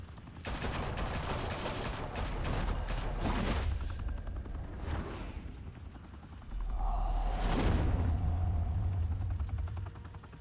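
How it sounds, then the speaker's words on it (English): Dense, continuous gunfire and explosive bursts from a Batman Telltale Series shootout roar loudly throughout, with sharp volleys standing out and a deeper rumbling surge in the later half. "Open fire!"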